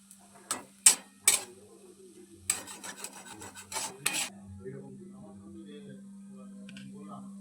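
Spiced potato filling for aloo chop is scraped out of a pan onto a plate: several sharp, rasping metal scrapes in quick bursts, loud and close, then quieter soft rubbing, over a low steady hum.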